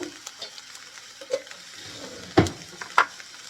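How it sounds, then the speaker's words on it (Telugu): Onions frying in a pan at home, a soft sizzle under a few stirring scrapes and two sharper clanks of a utensil against the pan. "ఇంకా కొన్ని ఆనియన్స్ వేస్తున్నాను నేను."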